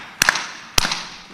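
Group hand claps during a percussion exercise at an arts healing panel, two sharp, loud, unison claps spaced evenly about half a second apart.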